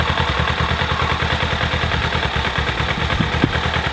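Motorcycle engine running steadily after clean carburetors are installed, warming up with a fast, even chugging idle pulse up close for the whole stretch and one sharper clatter near the end.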